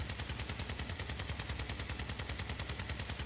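Rapid automatic weapon fire in the Crossout vehicle combat game, a dense, continuous stream of loud shots at a steady fast rhythm running the whole time without pause.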